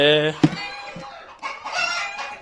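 Hens and a rooster in a backyard coop: a short crow up close, then scattered clucking, with a voice briefly in the background.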